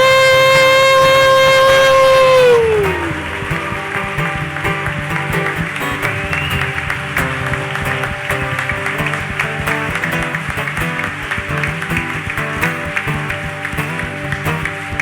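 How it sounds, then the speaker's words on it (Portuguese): Applause breaks out in a church congregation at the end of a Sunday homily, a dense, loud, sustained clapping. It follows a fading sustained musical tone and continues steadily to the end. "Termine com a salva de palmas"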